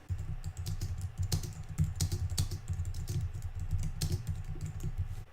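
Rapid, steady typing on a computer keyboard, close and clear, with irregular key clicks running throughout as a title is entered.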